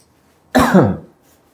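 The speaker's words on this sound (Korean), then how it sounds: "기침 엄청 나네" A single harsh cough, close and loud, breaking a near silence.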